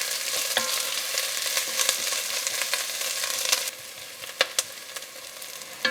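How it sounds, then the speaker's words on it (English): Onions frying in a pan for German kale stew, a steady close sizzle with occasional stirring scrapes and clicks, quieter in the last seconds. "And I will fry these for a little bit before I add the kale."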